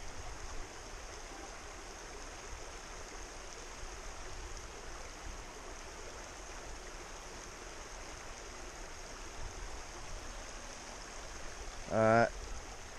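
Stream water rushes steadily along a mountain trail at South Mountain, North Carolina, a constant broadband wash that holds evenly throughout, with a brief louder knock near the end.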